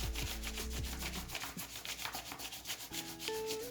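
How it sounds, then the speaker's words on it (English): An orange crayon turned on its side is rubbed firmly over a leaf laid under paper, giving a steady scratchy rubbing with no voices. "So you turn your crayon on its side and rub it all over the leaf with some pressure."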